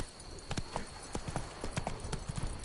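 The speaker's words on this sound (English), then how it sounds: "Run, Roach." Roach, a horse in The Witcher 3: Blood and Wine, gallops with quick, loud hoof clip-clops in an uneven rhythm, fairly close, over a steady ambient hiss.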